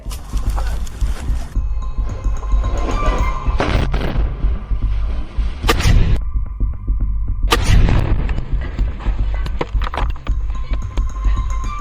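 A rocket strike blows apart a building in Gaza war combat footage near an IDF tank: loud, sustained rumbling roar with heavy booms and blast bursts, briefly dropping out before the din resumes.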